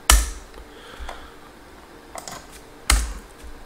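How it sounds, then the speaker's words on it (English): Typing on a computer keyboard at a mainframe console running MVS 3.8 with JES3: a few sharp, close key clacks spaced apart, with a louder pair of strokes near the start and end, no talking. "So we exit by typing asterisk return."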